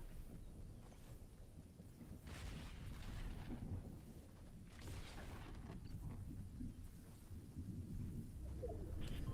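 A thunderstorm in the video game Fortnite brings low rolling thunder rumbles and a steady rain hiss, swelling in a few soft bursts, quiet and without talk.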